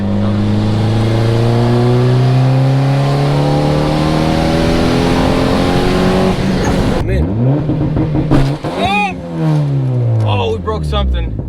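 A turbocharged Honda Accord CD5 with a converted five-lug setup accelerates hard, its engine rising in pitch through a long loud pull, then a shift and renewed revving with the car close by and voices talking over the engine near the end.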